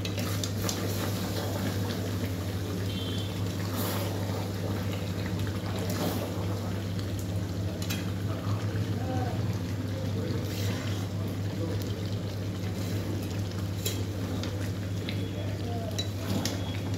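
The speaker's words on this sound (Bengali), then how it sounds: "আদা পেঁয়াজ রসুন ধনে গুঁড়ো জিরে গুঁড়ো সব দিয়ে, তাই এটা এখন কষছে" Ginger, onion, garlic, coriander and cumin masala sautéing in a pan, a continuous low sizzle with a steady hum and intermittent scraping stirs and soft clinks, talk quietly underneath.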